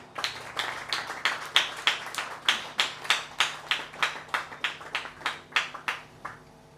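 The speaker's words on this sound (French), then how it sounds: "j'aimerais qu'on l'accueille avec des acclamations" A small audience at a school speech event claps in a slow, even, rhythmic beat, each clap distinct and fairly close, about fifteen in a row before fading.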